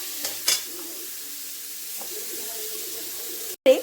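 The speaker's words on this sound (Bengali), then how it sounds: "বিনস কুচোনো, এটা দিয়েও ভালো করে নাড়াচাড়া করব" Chopped beans, carrots and other vegetables for a Bengali chicken momo soup are stirred in a pan, giving a soft, steady sizzle with light scraping and a couple of louder clanks near the start and end.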